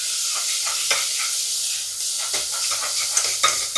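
Onion and a large tomato being sautéed in a pan: a loud, close, steady hissing sizzle broken by repeated scraping stirs of a spatula, with no voices.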